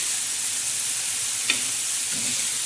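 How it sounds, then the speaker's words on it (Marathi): Fenugreek leaf sabzi with onion, tomato and green chilies sizzles evenly in a pan, with one sharp clink of a spoon midway and soft scraping as it is stirred. "पण मस्तपैकी हलवून घ्यायची"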